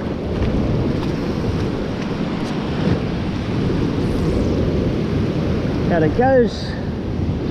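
White water waves roll and break at the shore with steady wind buffeting the microphone, a continuous loud rush, while someone speaks briefly near the end.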